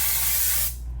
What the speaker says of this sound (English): So just go ahead and spray each section